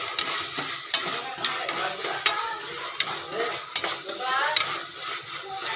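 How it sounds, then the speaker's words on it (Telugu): Onions frying in hot oil in a pan for an okra curry, a steady close sizzle broken by repeated sharp clinks and scrapes of a spoon stirring, with no one speaking. "ఇంకండి ఉల్లిపాయలు అయితే వేపుతున్నాను"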